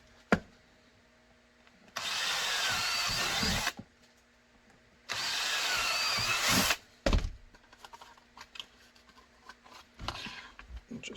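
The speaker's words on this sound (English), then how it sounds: "I'm going to drill 2 of these holes" A power drill whirs in two steady bursts of about two seconds each, drilling holes in a carbon fiber Sig P226 clip, close and loud, followed by scattered clunks and handling noises.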